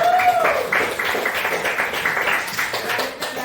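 Short burst of classroom applause during a coding and AI lesson, as students clap together for a group; dense, fairly close clapping that tapers toward the end, with faint voices mixed in.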